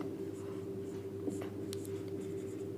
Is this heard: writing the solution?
yes